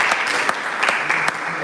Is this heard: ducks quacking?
no